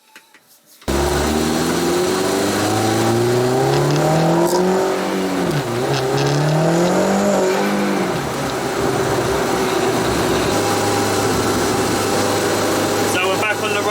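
A VW Polo 6N2 turbo car pulls away and drives, its engine note rising and falling through gears with a steady whining drone and road noise from inside the car, starting after a quiet moment, with voices faintly present.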